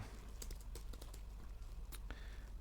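Quick keystrokes on a computer keyboard entering a Shift F9 shortcut in Word, a few sharp faint clicks in an irregular cluster over a low steady background hum.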